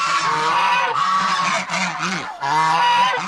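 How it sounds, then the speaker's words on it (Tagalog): A young goose calls in loud, close honking bursts, repeated in steady rhythmic runs with short breaks between them and no other sounds around. "Sisiw ng gansa."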